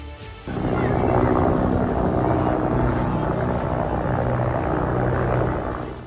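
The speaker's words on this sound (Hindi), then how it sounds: "ये पाकिस्तानी सेना के हेलीकॉप्टर हैं जो बलूचिस्तान में उस जगह जा रहे हैं" Pakistani army helicopters flying toward a site in Balochistan, a loud, steady rotor roar that rises quickly and holds for several seconds with no talk over it.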